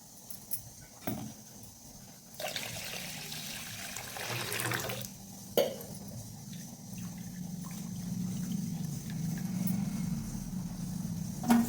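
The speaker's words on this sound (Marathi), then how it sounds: "हे तांदूळ 2 ते 3 वेळा स्वच्छ पाण्याने धुवून घ्यायचे." Barnyard millet rice being rinsed with clean water, a steady watery sloshing and trickling with a louder splash around the middle, heard close with no talking.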